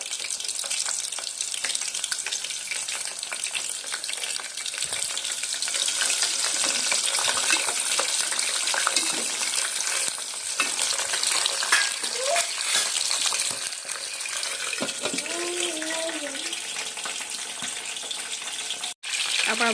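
Green chillies frying in hot oil in a pan while undhiyu is being made, a steady broadband sizzle and crackle running throughout at close range, with no talking.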